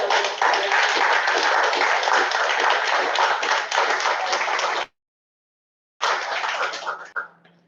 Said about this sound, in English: I just want to give you guys a round of applause.